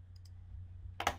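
A computer mouse gives one sharp right-click near the end, preceded by a couple of faint ticks over a low background hum; no one speaks.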